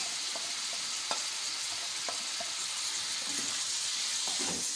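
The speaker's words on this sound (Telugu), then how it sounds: "వీటిని మనం ఇలా ఫ్రై చేసుకోవాలి" Chicken pieces with salt and turmeric fry in a pan as the water cooks off, giving a steady broad sizzle with scattered scraping clicks of stirring, close and continuous with no talking.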